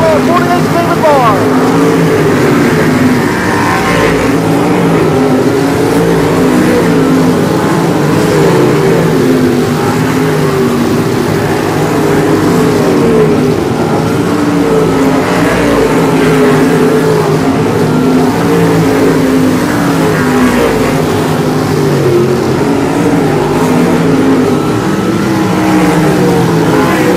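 Sprint cars race in an A-Main feature at Boyd Raceway, a steady loud engine roar that holds throughout, with a race announcer's commentary layered over the noise.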